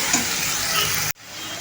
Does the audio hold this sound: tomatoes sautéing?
yes